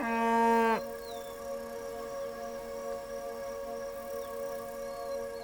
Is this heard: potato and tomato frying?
no